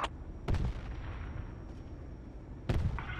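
Gunfire and artillery in the military shooter game Project Reality: two heavy booming blasts about two seconds apart, each with a short echoing tail, over a constant low battlefield rumble and no talking.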